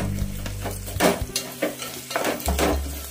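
Chopped onions sizzle and fry in a pan for egg curry, with loud scraping stir strokes and clattering utensil knocks over a steady crackle, with no voices.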